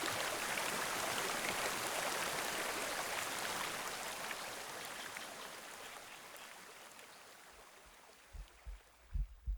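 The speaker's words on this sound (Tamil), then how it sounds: "இந்த வாட்டர் ஃபால் சவுண்டு" Steady broadband rush of a waterfall, loud and continuous at first and gradually easing, with a few low thumps near the end.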